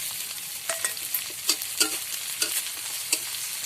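Chopped tomato goes into a sizzling, well-fried spice paste for a paneer and egg dish, giving a steady close hiss punctuated by irregular scraping stirs of a spatula against the pan.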